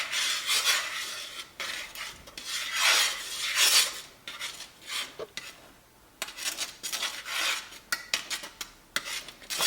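Mac and cheese sauce stirred in a pot as it thickens, a steady scraping and rasping of the utensil against the pan in repeated close, loud strokes with brief pauses, no talking.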